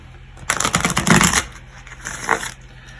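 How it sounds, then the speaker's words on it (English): A quick riffle of tarot cards being shuffled close up, a flurry of crisp flapping lasting about a second, followed by a softer brief shuffle. "so you can see I'm shuffling the cards"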